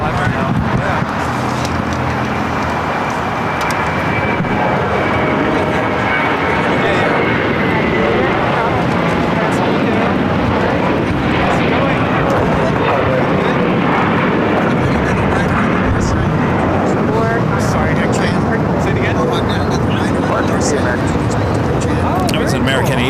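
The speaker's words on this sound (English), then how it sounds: "It was an American A321 taking off, heading to JFK Flight 4" American Airlines Airbus A321 taking off at LAX, a loud, sustained jet engine roar with broadband rumble that holds strong throughout, close and powerful, with voices mixed underneath.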